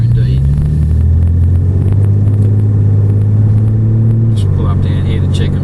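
A well-kept classic car drives along and slows to pull up, its engine a loud, close, low rumble with a shifting pitch as it eases off.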